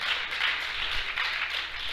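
Steady audience applause for a 47 kg Masters 4 lifter at a classic women's bench press championship, a dense even patter of many hands filling the hall, moderately loud and unbroken.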